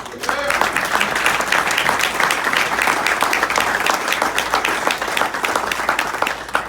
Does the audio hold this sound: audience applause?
yes